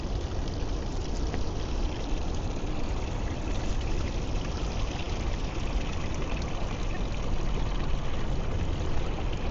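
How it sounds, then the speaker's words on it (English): A little garden waterfall splashes steadily and close, a dense continuous rush of falling water with no breaks. "they have this little waterfall"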